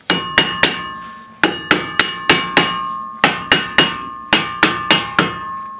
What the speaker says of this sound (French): Alors il va falloir jouer du marteau.